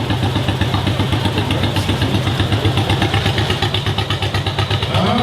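A 1954 Case DC-4 tractor engine runs loud and close at a power parade, its steady rhythmic chugging clatter holding an even pace throughout with no talking.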